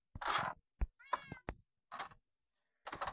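A kitten in the video game Minecraft gives a series of short, clear meows separated by brief silences, close and alone.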